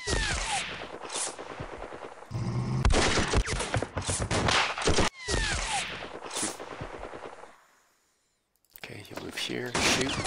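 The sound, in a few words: gunshots in a war video game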